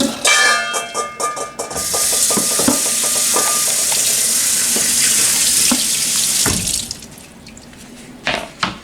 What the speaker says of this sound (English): Now we rinse, and we rinse our board.